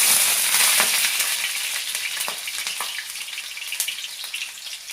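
Onions drop into hot oil in a kadai and hiss loudly at first; the bright sizzle then eases into a steadier crackle with occasional pops.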